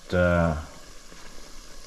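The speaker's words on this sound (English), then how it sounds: "I have started my frying process here." A brief voiced sound opens, then a soft, steady sizzle of Jamaican festival dough frying in oil at 300 to 320 degrees continues quietly on its own.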